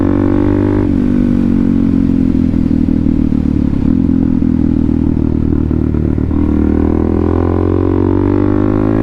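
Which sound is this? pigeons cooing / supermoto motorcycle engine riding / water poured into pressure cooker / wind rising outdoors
supermoto motorcycle engine riding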